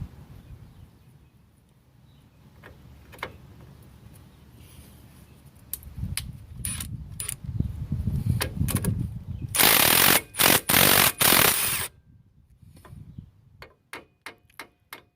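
A hammer knocks gently on a bolt at a 2000–04 Ford Escape lower control arm: scattered light metallic taps, then a short run of loud sharp strikes, then a few faint ticks.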